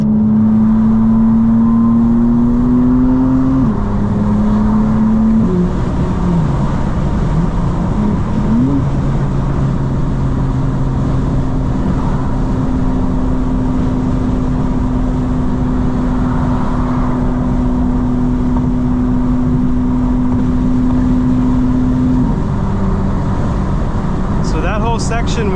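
A 2025 BMW M4 CS with a modified exhaust drones steadily from inside the cabin, a low constant engine hum with a metallic tinge from the rear that shifts pitch as the car changes speed, while a person talks throughout.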